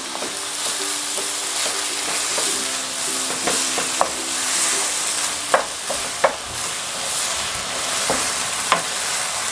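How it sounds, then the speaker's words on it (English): Chilli con carne with tomato puree being stirred in a hot frying pan, a constant loud sizzle with scraping spoon strokes and a few sharp knocks against the pan, no voices. "Right, going to mix all this in."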